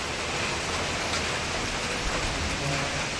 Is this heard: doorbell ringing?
no